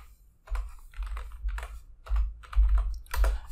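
Keys clack in quick irregular bursts as a command is typed on a computer keyboard into the VS Code terminal, close and fairly loud with short pauses between runs of strokes.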